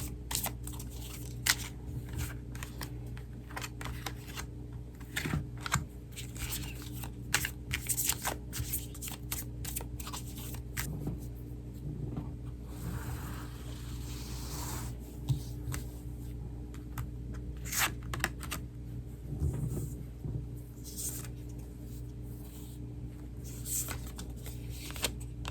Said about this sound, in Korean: 추가 카드 2장을 더 뽑아보도록 할게요